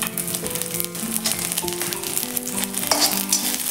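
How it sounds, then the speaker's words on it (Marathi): Green chillies and garlic cloves sautéing in a pan over a low flame give a steady, close sizzle with a tonal melody running underneath throughout. "बारीक गॅसवरती आपल्याला ही हिरवी मिरची छानशी परतून घ्यायची आहे"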